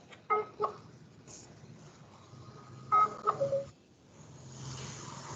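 A phone sounds faintly in a room, with a few short electronic tones in two clusters, the second after a quiet gap, followed by a soft rising hiss.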